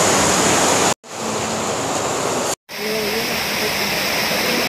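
A loud continuous roar of water pours down at Lakkom waterfall in Munnar, Kerala, cut by two brief dropouts; a faint voice murmurs beneath the rushing sound.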